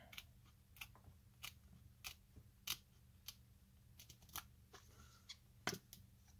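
Scissors snip polarizing film removed from a Casio CA-53WF-3BCF watch display, a series of quiet, sharp clicks recurring roughly every half second, close and alone against a low hum.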